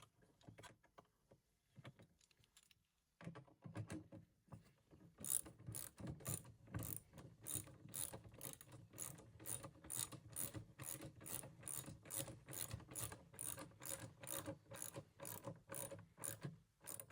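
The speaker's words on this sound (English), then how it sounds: "So I'll just kind of grab the correct socket and tighten this up." Socket ratchet tightening a mudguard reinforcement bracket on a Land Rover Defender, a close, steady run of rapid clicking strokes that starts after a few quiet seconds and continues to the end, with no talk.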